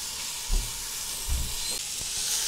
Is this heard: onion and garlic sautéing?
yes